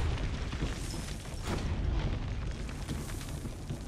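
Tank cannon in Assassin's Creed Brotherhood firing in a dense, continuous barrage, heavy low booms blurring into one another with no pause, loud and close throughout.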